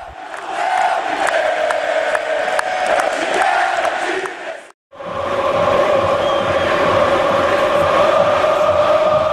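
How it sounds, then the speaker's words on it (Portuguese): Organized supporters of Inter's popular fan group chant and cheer together in a football stadium, a loud, sustained mass of voices with steady sung tones, briefly cut by a moment of silence before the crowd roars back just as strongly. "levando aos estádios cânticos, faixas e gritos de guerra"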